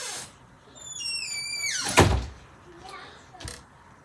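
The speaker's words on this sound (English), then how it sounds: "Close the door, Amir." A door squeaks on its hinges in rising tones, then shuts with a solid thump, followed by a lighter knock a moment later, indoors and close by.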